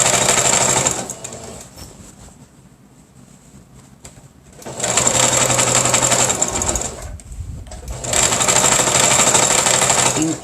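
Sewing machine stitching the hem of an ecobag wallet, running in three loud sustained bursts with a quieter near-pause between them, no talk.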